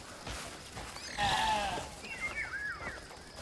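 Several sheep bleat in the video game Crimson Desert, wavering cries rising and falling one after another over a low ambient bed, moderately close and clear.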